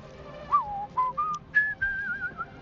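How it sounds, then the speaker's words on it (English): A man whistles a slow, wandering tune to himself, several sustained notes with short gaps between them, fairly close and alone with no talk. "I'm just gonna whistle to myself for a bit now"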